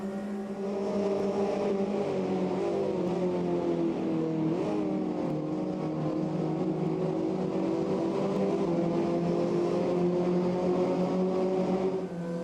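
A Ginetta race car engine in the game Automobilista 2 drones steadily at high revs, its pitch wavering slightly as it holds through the gears with no pauses.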